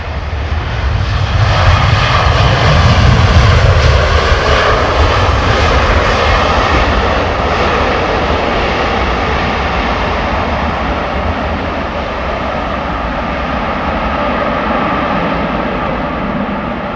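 A jet airliner lands at London Heathrow in a gusty crosswind with rain, its engines a loud, steady roar that holds for the whole stretch without any talking.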